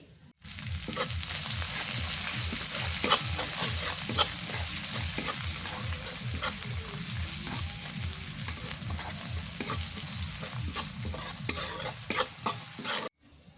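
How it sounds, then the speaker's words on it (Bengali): Chopped onions sizzle steadily in hot oil with whole cumin and nigella seeds for a fish curry, while a spoon scrapes and stirs in a quick, regular rhythm, close and continuous until an abrupt stop. "পেঁয়াজ ভাজা হয়ে গেছে"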